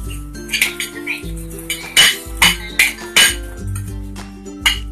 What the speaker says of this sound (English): Stir it up really good.